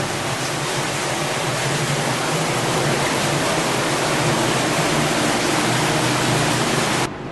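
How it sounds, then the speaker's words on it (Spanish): Knee-deep cold water flowing through the dark tunnel beneath the City of David gives a steady, dense rushing wash that holds evenly and close throughout, with no talk over it. "Aquí pasa las rodillas el agua y está bien fría, aún en verano."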